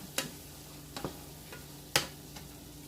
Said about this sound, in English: You throw in the liquid, you mix, you mix, you mix.